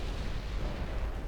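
Torpedo striking a ship in Ultimate Admiral Dreadnoughts, heard as a dense, loud, continuous rumbling blast of explosion noise that fills the whole clip without a break.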